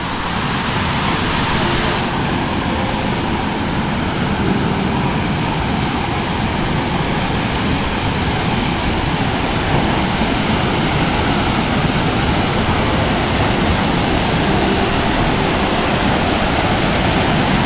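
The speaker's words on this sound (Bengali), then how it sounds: "এই যে চলে আসছি বিলাসী ঝর্ণা।" Bilashi waterfall in Sitakunda, a loud, dense, unbroken roar of falling water heard up close, steady from start to finish with no voices.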